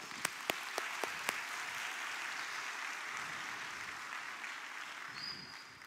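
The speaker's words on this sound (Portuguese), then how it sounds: "Uma salva de palmas para esses jovens" An audience at a Brazilian Adventist church service applauds for young people with steady, broad clapping that fills the hall, opening with a few sharp, distinct claps before settling into a sustained, even wash.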